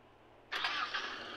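A pickup truck engine turns over in the driving game Car Simulator 2, a sudden loud start after near silence that settles into a steady, close idle with a slight rev.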